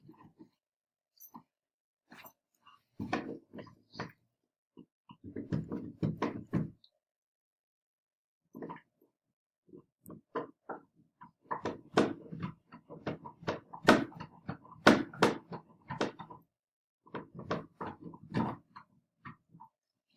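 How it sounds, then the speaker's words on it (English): Intermittent gnawing and scraping clicks come in irregular bursts as a dog chews on a hard deer antler, fairly quiet with pauses between. "My dog is chewing on a deer antler."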